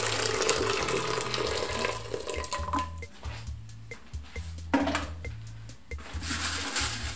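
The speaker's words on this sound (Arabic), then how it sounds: "الآن غنوضعو الماء في الطنجرة" Water runs into a cooking pot in a home kitchen as it is filled for boiling Chinese egg noodles: a steady, close rush of pouring with a few brief clinks and splashes, and no talk.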